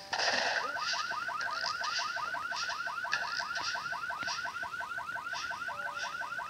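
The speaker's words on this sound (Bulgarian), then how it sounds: "Сега трябва да активирам алармите и да се скрия." A video game car alarm whoops in a rapid, continuous repeating pattern, loud and steady throughout with no voices.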